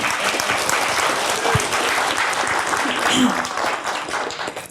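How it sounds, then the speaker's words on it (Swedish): Audience applause after a talk about former left-wing activism, steady and dense clapping from a crowd that runs through the whole stretch, loud and close, with a faint voice now and then. "En applåd."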